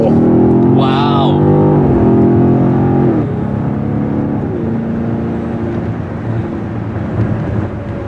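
A 2024 BMW XM engine revs hard and roars as it accelerates onto a highway, loud and close, with a rising whine and voices exclaiming over the noise.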